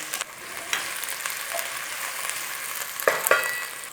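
Cumin seeds sizzling and frying in hot oil, a steady bright crackle close by with a few sharper spits and pops toward the end, no voices.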